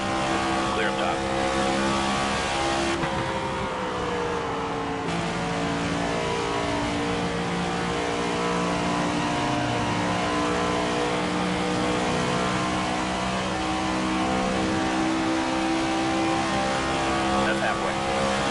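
Racing car engine in the video game Fortnite, a sustained, steady drone of engine and tire noise with shifting revs running throughout, with a voice calling out race positions over it.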